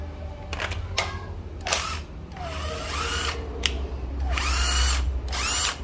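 A Makita 6505 cordless drill runs in short bursts of whirring, several separate spins with pauses between them, fairly close and loud over a steady low background hum.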